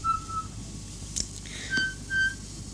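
Short, high whistled notes come in a few brief bursts against faint background noise, with a quiet thump in between.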